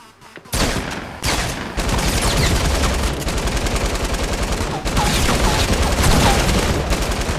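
Heavy light-machine-gun fire in Fortnite Battle Royale: dense, loud, continuous automatic bursts rattle almost without pause after a short quiet start, with brief gaps between volleys.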